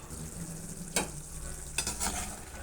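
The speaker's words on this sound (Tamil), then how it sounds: "மசாலா கொஞ்சம் கொஞ்சமாக இப்போ தான் அப்படியே நல்லா வதங்கி வந்துட்டுருக்கு" Mushroom gravy masala frying in oil in a pan, a soft continuous sizzle broken by a few brief scraping stirs of a spoon, quiet and close.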